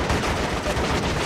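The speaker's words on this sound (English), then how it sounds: "Heavy machine gun!" Heavy machine gun fire in the Vietnam war video game Shellshock: Nam '67 on PS2, a dense burst of rapid loud shots packed into a brief moment, with no talk.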